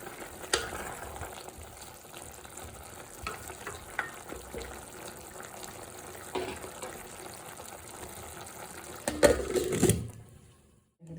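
Vegetables for Kerala nadan aviyal are stirred in a pan as they cook, giving soft scraping and light frying sizzle through most of the stretch, with a louder clatter near the end before it falls quiet.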